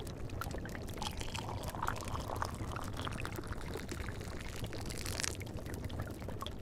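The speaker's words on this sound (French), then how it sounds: "On va utiliser une louche pour prendre la quantité adéquate et verser" Liquid potion is ladled and poured into small vials, with continuous splashing and trickling, close and moderately loud, with no talk over it.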